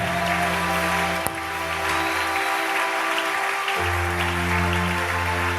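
Church congregation applauding and cheering Jesus at an evening worship service, a dense sustained wash of clapping, loud and continuous throughout, with a sustained musical drone from keyboard or organ underneath and a brief dip partway through.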